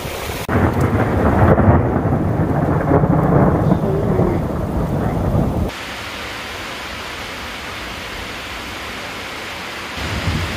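A serious thunderstorm outside with heavy rain: loud rolling thunder rumbles over rain for about five seconds, then a steady hiss of falling rain continues alone.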